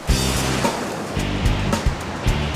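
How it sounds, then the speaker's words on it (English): Warm ocean water laps against a sandy beach in Florida, with loud, close rhythmic surges of surf and wash repeating every second or so. "the warm ocean water laps against a sandy beach in sunny Florida"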